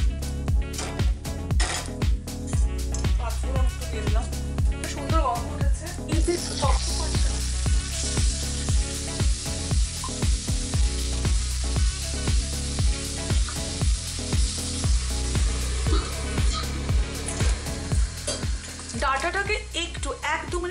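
Dried red chillies hit hot oil with a bright, hissing sizzle and crackle, with intermittent stirring clatter. Rhythmic background music plays underneath the whole time.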